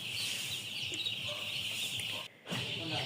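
A dense, constant chorus of many Paragon broiler chicks peeping close by, with a brief drop in sound near the end.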